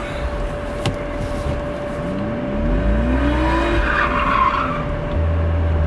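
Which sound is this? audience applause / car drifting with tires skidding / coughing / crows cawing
car drifting with tires skidding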